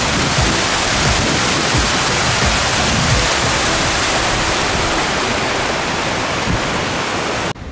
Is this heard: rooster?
no